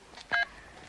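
A mobile phone keypad pressed to dial a number, giving one short bright electronic tone burst over faint room noise, with no talking.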